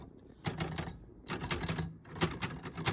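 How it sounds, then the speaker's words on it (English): Keys clacking on an old, fully working mechanical typewriter, close and fairly loud, in quick bursts of strikes separated by short pauses, with no talking. "And yes, this typewriter is absolutely fully working."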